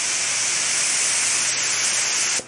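A paint spray gun with a 1.4 tip hisses loudly with compressed air at about 23 psi while painting a 1974 Chevy Nova part, a steady close broadband rush that stops abruptly near the end.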